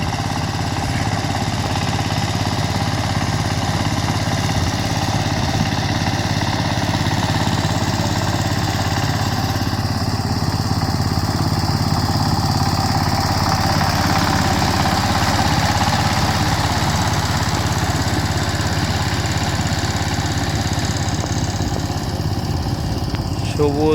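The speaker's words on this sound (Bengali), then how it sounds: "লাঙ্গল দিয়ে জমি চাষ করে পাওয়ার টিলার দিয়ে।" Power tiller ploughing a field for rice planting, a loud continuous engine drone close by throughout, with a person speaking over it.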